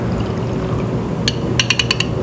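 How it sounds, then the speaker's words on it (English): About 50 milliliters of distilled water poured into a glass beaker in a lab, a brief close pour followed by a quick series of light glassy clinks. "and then again add our 50 milliliters of distilled water"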